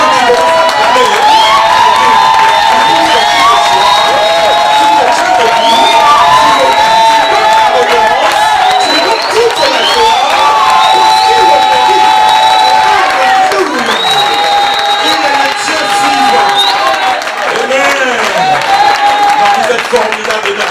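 A church congregation at a French-language seminar cheers and acclaims loudly throughout, with sustained voices, whoops and scattered clapping forming a dense, continuous wall of crowd noise.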